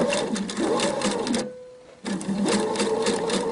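A Pfaff sewing machine stitching fabric and tape, with a fast, steady mechanical whirr and needle rhythm close by, pausing briefly midway before starting up again.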